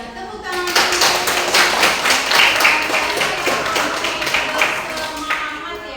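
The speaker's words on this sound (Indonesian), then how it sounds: "Iya, tepuk tangan." A group applauds steadily, many hands clapping in a dense, lively burst that carries on for several seconds before easing off.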